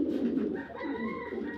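A pair of Arabian koka pigeons coo in a continuous, close, low burbling run, with a faint higher tonal note joining partway through.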